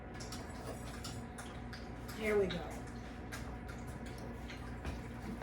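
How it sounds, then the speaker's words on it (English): A dog laps drinking water in the background of a home kitchen where an Irish cream cake is being mixed, soft quick wet ticks repeating faintly beneath a person's brief talk and nearby clatter. "That lapping noise you hear in the background is our dog"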